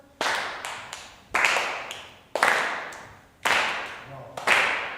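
A group claps together in unison, about five loud, ringing strikes spaced roughly a second apart, each trailing off in a reverberant room.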